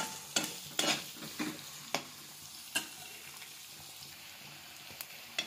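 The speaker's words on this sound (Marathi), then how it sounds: "आता हा आपला कांदा तेलामध्ये तळून घेत आहे।" Finely chopped onion frying in oil with a soft continuous sizzle, punctuated by occasional sharp stirring clacks and scrapes of a spoon against the pan, fairly close; no talking.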